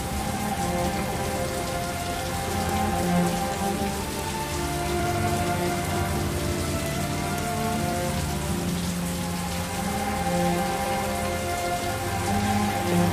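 Dense, steady rain patters on surfaces in the video game Heavy Rain, a continuous loud downpour with layered droplet hiss and no voices.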